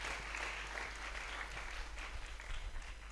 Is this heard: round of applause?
yes